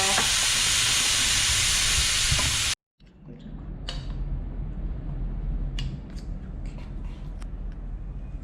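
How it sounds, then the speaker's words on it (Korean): Celery stir-fried in a pan with salt and pepper sizzles steadily and close, with scraping and stirring clicks from the spatula. A loud burst of hiss cuts off abruptly, then the frying resumes more softly. "금방 볶아지는 거예요, 이거는."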